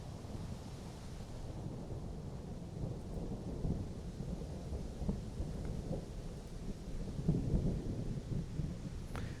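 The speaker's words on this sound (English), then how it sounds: "Seems that we have some stormy weather." Thunder rumbles through a steady rain in a Civil War strategy game, Grand Tactician, with low rolling crashes swelling over a constant wash of rainfall, heard alone.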